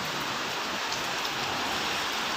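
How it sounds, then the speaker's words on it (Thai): Steady rain falls outdoors in a dense, even hiss of drops striking surfaces, heard alone with no voices. "อนนี้ฝนตกครับ"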